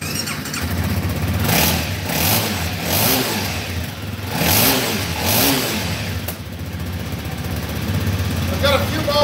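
A mud-caked Honda Rally 250 motorcycle engine revving in a series of rising and falling bursts, close and loud, then settling to an idle, with a voice speaking over it.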